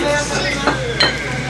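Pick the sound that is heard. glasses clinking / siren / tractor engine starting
glasses clinking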